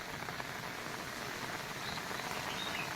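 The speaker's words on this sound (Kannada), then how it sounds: "ನೋಡಿ ಮಳೆ ಕೂಡ ಜೋರಾಗಿ ಬರ್ತಾ ಇದೆ" Heavy monsoon rain pours down in the Malnad region with a steady, dense hiss of falling drops, fairly faint and distant, constant for a few seconds with no voices.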